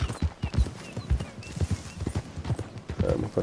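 A horse gallops in Red Dead Redemption 2, with a steady, rapid rhythm of clip-clopping hoofbeats close by, under brief game dialogue.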